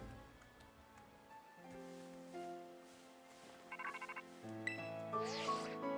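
A phone call ringing in the video game Pokémon Scarlet, heard as a soft electronic ring chime in a quiet in-game scene, with layered melodic tones rising toward the end and no speech.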